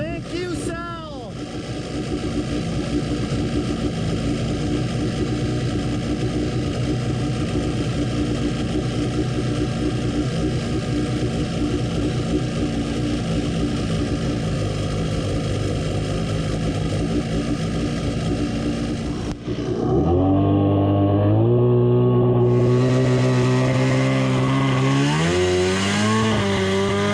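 An X2 minibike engine running on a CDK2 carburetor drones loud and close at a steady, buzzing idle, then shifts into a series of rising and falling revs near the end, with no clear speech.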